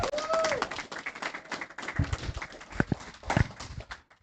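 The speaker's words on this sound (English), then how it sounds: "can we get a round of applause and a recognition for Will Jawando" A crowd at a progressive political rally in Maryland for county executive candidate Will Jawando claps and cheers in loose, uneven bursts, opening with a short whistle, with scattered sharp claps over general crowd noise.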